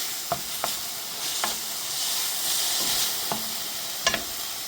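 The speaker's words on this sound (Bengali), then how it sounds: "অল্প হলুদ কিছুক্ষণ নেড়ে চেড়ে নেব" A spoon stirs spices and a little turmeric in a frying pan, several distinct scraping strokes spaced out over a soft, constant sizzle, heard close up with no voices.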